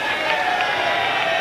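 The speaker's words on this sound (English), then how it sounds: "He got a very warm round of applause from this appreciative crowd" A baseball crowd at a 1999 Red Sox home game against Cleveland applauds warmly as Pedro Martinez heads back to the mound for the ninth, a steady broad roar of clapping and cheering with a broadcaster's voice over it.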